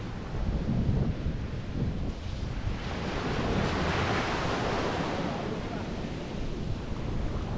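Rough surf churns steadily at Numana, Italy, with heavy wind buffeting the microphone, a continuous loud roar of breaking waves and gusts with no voices.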